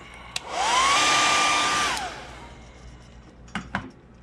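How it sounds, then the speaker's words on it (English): A hair dryer blows on a freshly painted fishing lure, a loud close whoosh with a steady whine that runs about a second and a half, spins down, and is followed by a couple of light knocks. "Let's dry that a little bit."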